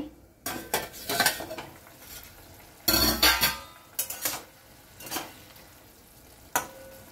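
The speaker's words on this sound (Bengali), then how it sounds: "এবারে আমি ঢাকাটা একবার খুলবো।" A metal lid comes off a pot of gime shaak greens with potatoes simmering on the stove, giving a few sharp clanks and clatters in separate bursts, close and fairly loud, with a soft bubbling hiss between them.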